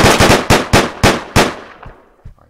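Gunfire in the video game Deadbolt: a loud, close rapid volley of about seven sharp shots, each with a ringing tail, fading into a couple of fainter trailing pops.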